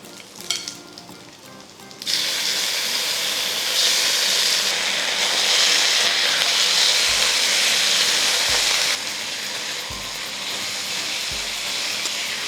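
Pork spare ribs drop into a heavy iron wok over browned ginger, scallion and garlic, setting off a loud, steady, close sizzle with hissing spatter that holds without a break and has no voices over it.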